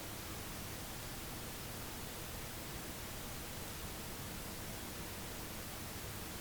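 Analog-style hiss and low hum added by a Waves audio plugin's Analog setting: a steady, faint, even wash of broadband noise with no variation and no other sounds.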